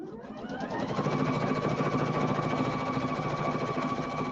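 A sewing machine runs steadily for a few seconds after being rethreaded with a new needle, putting in a handful of stitches with a fast even mechanical whir and hum, close and alone.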